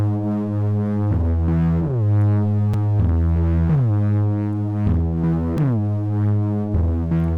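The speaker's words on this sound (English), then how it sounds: "We're gonna enable a distortion unit. We're gonna put this to a diode 2," Gritty synth bass made in Serum with diode distortion, playing a repeating house pattern of sliding notes, buzzy upper harmonics flaring on each attack.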